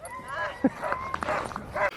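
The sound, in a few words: sled dogs barking at dog sledding race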